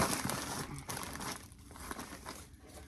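A plastic shipping mailer crinkles and rustles close by as it is folded over for a Poshmark clothing shipment, a brief run of soft crumpling with no speech.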